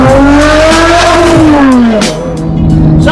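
Lotus Evora 400's supercharged 3.5 V6 revving loud and close, its rising tonal howl climbing then dropping sharply near the end with a whine on top, alone without speech.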